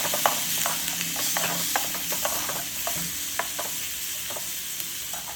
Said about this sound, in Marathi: आता आपण त्यात टोमॅटो ॲड करूया आणि छान परतून घेऊया.